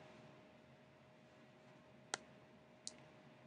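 Two crisp, close computer mouse clicks about a second apart break an otherwise quiet room while working in Google Documents.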